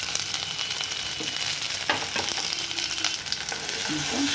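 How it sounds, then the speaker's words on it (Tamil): Tomatoes sautéing in an oil pan for a brinjal thin gravy, a steady close sizzle with faint clinks and scrapes of stirring running throughout. "இந்த தக்காளியும் போட்டேன். கொஞ்சம் நேரம் வதங்கினா போதும்."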